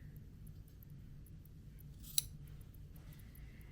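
Scissors make a single sharp snip through quilt binding fabric, cutting it at an angle, close and brief against a quiet room.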